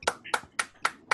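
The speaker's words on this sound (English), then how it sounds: "Can we get a round of applause for all" Several distinct sharp claps spaced evenly, about five crisp hits in quick succession, fairly close and isolated with quiet gaps between, as an audience is urged to clap.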